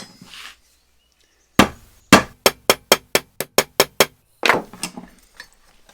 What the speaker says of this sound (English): gave it a little tap with the hammer